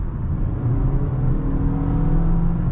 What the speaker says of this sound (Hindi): RPM बहुत है, गाड़ी शोर शराबा बहुत करेगी, लेकिन स्पीड धीरे बढ़ती है